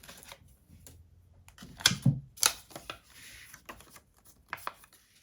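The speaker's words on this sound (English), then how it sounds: "cut out my little tag shape" Scissors snip out a small paper tag shape, giving a few scattered, quiet cuts and rustles with two sharper snips in the middle, close by in a quiet room.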